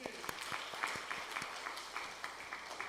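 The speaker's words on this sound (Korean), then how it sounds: "하나님께 영광의 박수가 날립니다" A church congregation claps during a sermon, a fairly faint, steady patter of hand claps with a few sharper individual claps standing out at an even pace across the short moment.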